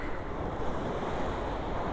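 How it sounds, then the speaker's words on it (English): Sea waves washing onto the beach along the Rossall School frontage, a continuous close roar of surf mixed with wind buffeting the microphone, steady and loud with no voices. "When all the world around you is falling, the sea comes in and out."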